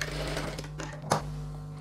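A sewing machine runs steadily as it stitches chudidhar top pieces, humming with a constant drone and a quick whirr and clack near the end, with no talking.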